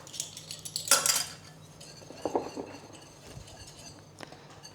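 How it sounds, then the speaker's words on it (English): A whisk clinks and scrapes around a bowl of chocolate biscuit batter in a home kitchen, with a couple of brisk metallic bursts and quieter stirring between them, close by and without speech. "I'm going to whisk this up really well."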